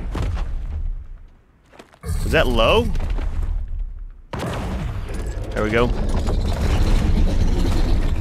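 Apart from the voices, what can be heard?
cannon shots in video game ARK: Survival Evolved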